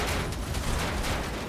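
Dense, continuous gunfire from the video game Red Faction Guerrilla, a steady loud barrage of overlapping shots and rumble with no clear pauses.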